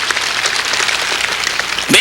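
A congregation at a Sunday church service bursts into loud, dense applause that fills the room, then a voice cuts in sharply at the very end.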